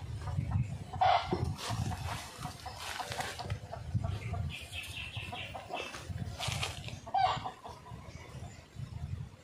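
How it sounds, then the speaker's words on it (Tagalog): Wild chickens cluck in short, scattered bursts outdoors, at moderate distance, over a rustling background. "Ito yung mga manok na wild."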